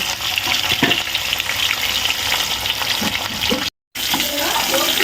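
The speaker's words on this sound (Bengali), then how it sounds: "এগুলো একইভাবে ভেজে নেব।" Rohu fish pieces fry in hot oil with a continuous close sizzle and occasional stirring knocks, briefly cut off near the end before resuming.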